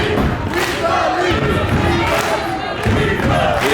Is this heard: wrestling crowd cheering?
yes